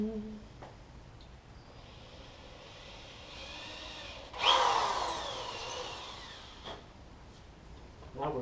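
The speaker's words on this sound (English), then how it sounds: "Yep, so just barely going through the back of that." A power drill whines as it bores through metal while fitting a supercharger to a K-series engine, rising into a louder grinding burst midway before easing off, with faint background noise.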